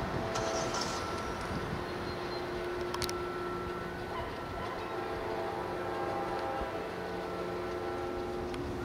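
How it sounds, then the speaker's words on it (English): A Norfolk Southern freight train approaches, a continuous broad rumble with steady tonal engine hum and a brief higher burst near the middle, heard from a moderate distance without talk. "I think we have a Norfolk Southern train coming"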